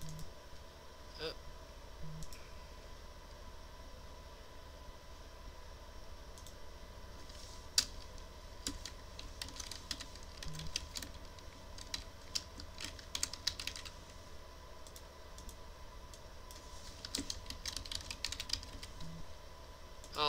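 Fingers type on a computer keyboard while a customer information form is filled in, quiet uneven clicking and tapping in irregular bursts over a faint room hum.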